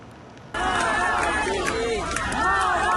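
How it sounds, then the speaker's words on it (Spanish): A large crowd at Alexei Navalny's funeral bursts into loud applause and chanting, a dense, continuous roar of voices that swells suddenly and stays close and sustained. "Con aplausos y arengas en contra del gobierno de Vladimir Putin, fue despedido el líder opositor Alexei Navalny."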